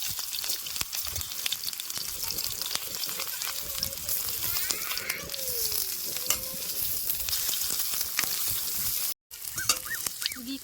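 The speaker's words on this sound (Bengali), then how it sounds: "করলাগুলো দেখেন বেশ সুন্দর করে ভাজে নিছি" Bitter gourds frying in mustard oil in a wok, a dense continuous sizzle with scraping stirs, close and steady, a brief faint voice passing underneath and a sudden short dropout near the end.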